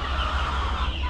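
Chickens cluck in a low, steady murmur of farm fowl, close and continuous over a brief stretch with no talk.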